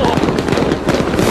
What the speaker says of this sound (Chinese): 灿烂的烟花璀璨夺目，但美丽的背后却暗藏危险